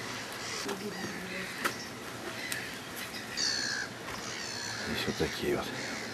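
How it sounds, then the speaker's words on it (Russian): Gulls call repeatedly around Fort Obruchev by the sea, several harsh cries of moderate loudness over windy outdoor ambience, with people talking in between. "Здесь вот такие вот чайки летают."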